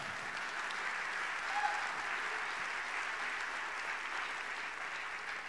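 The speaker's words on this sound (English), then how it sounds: "if you're going to clap, clap." Faint, distant applause from a church congregation during a bilingual sermon, a soft steady patter throughout without talk.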